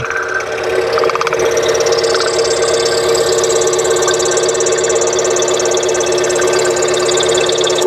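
A Harbor Freight scroll saw cuts a small jigsaw piece, its motor and reciprocating blade giving a loud, steady mechanical drone with a buzzing vibration that holds evenly throughout, no talking.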